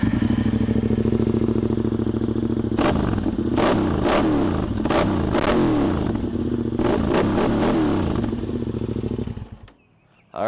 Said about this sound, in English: So this particular engine sounds amazing with an exhaust